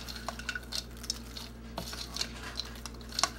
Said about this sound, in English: I am just going to take one of my rubber spatulas and I'm just gonna mix it up